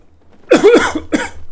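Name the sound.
cough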